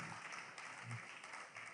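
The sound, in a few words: audience clapping at conference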